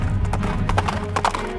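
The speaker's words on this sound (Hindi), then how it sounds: "पुरिया जी स्वयं घोड़े पर सवार हुए और देखते ही देखते उन्होंने सामने किले की दीवार से घोड़े को पार लगा दिया।" A galloping horse with steady, close clip-clop hoofbeats throughout and a couple of brief neighs rising over the hooves near the end.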